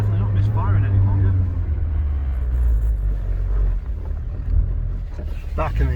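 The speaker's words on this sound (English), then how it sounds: "And listen, it is misfiring." An engine idles roughly with a deep uneven rumble and misfires, heard outdoors in a yard with wind buffeting the microphone and someone talking over it.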